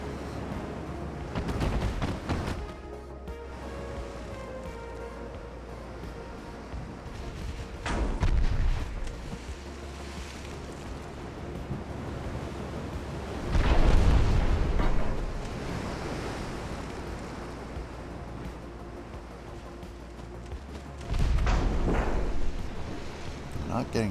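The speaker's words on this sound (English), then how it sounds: "A lot of shells flying downrange." Naval gunfire in the warship game Ultimate Admiral: Dreadnoughts, with heavy booming salvos rolling out at irregular intervals over a low wash of sea and wind, each shell volley swelling and then fading.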